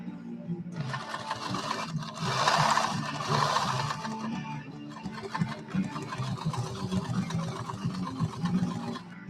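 An Adler 189A heavy-duty sewing machine stitches through thick leather, giving a close mechanical whir with a rapid needle rhythm that speeds up and slows in bursts, with music playing faintly behind it.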